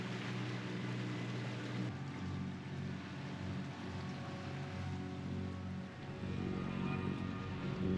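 A ferry crossing the Messina Strait at speed gives a steady, loud low engine drone with continuous rushing water and hull noise, constant throughout with no talk.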